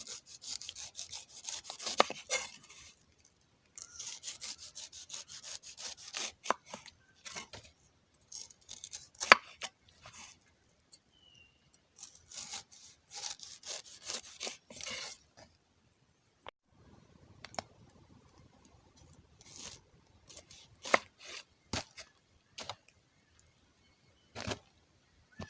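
A knife saws the tough peel off a pineapple in a home kitchen, giving scratchy, rasping strokes in clusters with short silent gaps, close up and fairly quiet overall.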